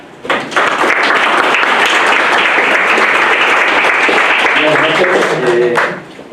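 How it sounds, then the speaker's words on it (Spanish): An audience applauds an introduced guest speaker at a lecture on scientific writing and information management, a loud, dense burst of clapping lasting several seconds and then fading, with a voice briefly over the end. "Un fuerte aplauso, por favor."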